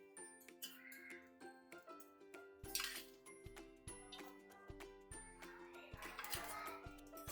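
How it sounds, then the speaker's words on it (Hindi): A frying pan set down on a gas stove while Maggi is being made: faint metallic clinks and light knocks come and go at a low level, with soft background music playing. "अब हम इस पे एक फ्राइंग पैन रखेंगे"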